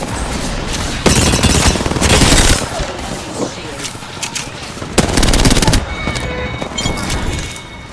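Rapid bursts of automatic gunfire in an Apex Legends match, two loud sustained volleys around sharper single shots, with game effects layered underneath; close and dense throughout.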